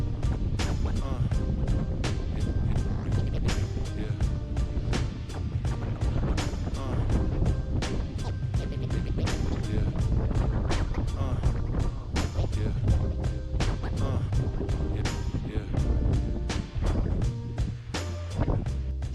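Strong wind gusts buffet the microphone on a Cornish coastal hiking trail near Tintagel in North Cornwall, a continuous low roaring rumble that swells and dips for the whole stretch.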